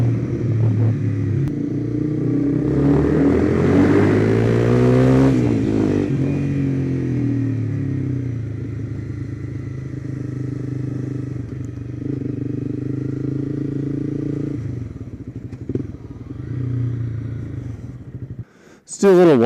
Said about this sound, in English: Oh, there's a motorcycle.